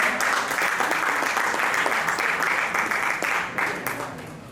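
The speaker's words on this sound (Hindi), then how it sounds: "हमारे अध्यक्ष जी के लिए एक बार जोरदार तालियां हो जाए" Sustained applause from an audience at a Hindi poetry gathering, a steady dense wash of many hands clapping that thins slightly toward the end.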